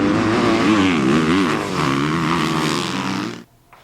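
A 2023 Kawasaki KX250 motocross bike screams loud and close on a hot dirt raceway, its engine rising and falling through quick revs before cutting off abruptly near the end.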